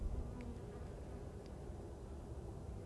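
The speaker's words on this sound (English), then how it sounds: "I'm going to try and zoom in on a few bees that are fanning." A steady, low insect hum of many honeybees fanning their wings together, continuous and close, with no voices.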